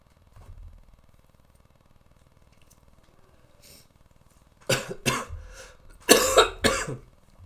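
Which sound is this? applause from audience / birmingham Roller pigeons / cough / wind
cough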